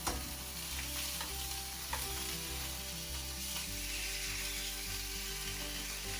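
Sausages sizzle steadily in a frying pan over low heat, a continuous close crackling hiss with a few small pops and no voices.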